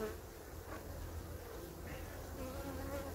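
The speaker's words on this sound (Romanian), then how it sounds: "Albina stă aici pe miere." Honey bees buzz inside a hive with a food-stressed colony, clustered on five frames of honey: a steady, close, dense hum with no talk.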